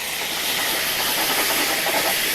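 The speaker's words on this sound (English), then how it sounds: "Now be careful because it crackles, but that's exactly what you're looking for." Duck and sweet sauce crackling and sizzling in a hot pan, a steady, dense hiss with fine popping throughout, close and fairly loud, with no voices.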